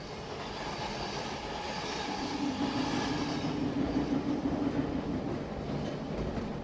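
Steady rumble of a train running on rails, a continuous moderate roar with faint clickety-clack and no voices.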